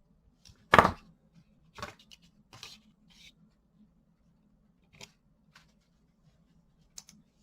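Cutters snip 26 gauge jewelry wire loose while a wire-wrapped ring is made, giving one sharp close click followed by a few fainter scattered ticks and taps in an otherwise quiet space.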